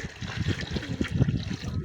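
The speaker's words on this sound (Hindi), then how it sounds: "अब इसके अंदर पानी डालते हैं" Water trickles and gurgles steadily into a container in an outdoor farm setting where a cow with lumpy skin disease is being cared for; a soft, continuous splashing with no voices.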